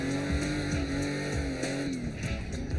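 A drifting car being driven uphill with a brake stab and e-brake gives a continuous loud engine roar with rising and falling tones and faint tire squeal, heard from inside the car.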